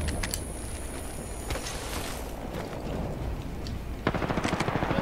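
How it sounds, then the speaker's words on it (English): Gunfire in Apex Legends rattles through a dense battle soundscape, steady background noise with scattered shots, then a close rapid burst of automatic fire near the end. "Shots fired."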